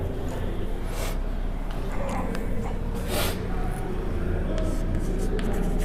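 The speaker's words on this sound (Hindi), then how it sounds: "तो उसकी परिभाषा और उदाहरण लिखते हैं" A pen writes out a definition and examples during a physics lesson on motion. Scratchy strokes come in short bursts over a steady background hum, with no voices.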